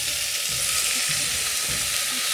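Chopped tomatoes and carrots sizzle in butter with softened garlic and onion, a dense, steady frying hiss with faint stirring scrapes, close by and without talk.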